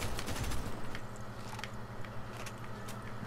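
Sustained gunfire in the military shooter Medal of Honor (2010), a dense crackling fusillade of rapid shots that stays loud and steady throughout, with distant bursts mixed in.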